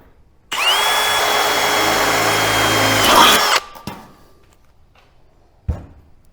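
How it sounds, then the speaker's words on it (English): A loud power drill whirs steadily for about three seconds drilling 1/4 inch holes for a grill slide hinge, then stops, followed by a couple of sharp knocks and a thud. "You need to also drill the 1/4 inch, those 4 holes right there. So let's go ahead and drill those."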